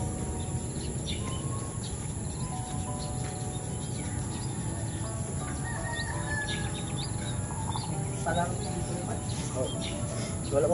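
Chickens cluck and call intermittently through a steady, busy outdoor background of insects and other birds, with faint voices mixed in, at a lively Filipino gathering.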